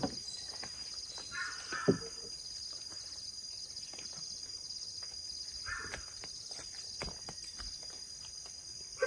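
Crickets chirp steadily in a forest on a quiet night at a campsite, a continuous high trill with a few faint clicks and soft rustles nearby.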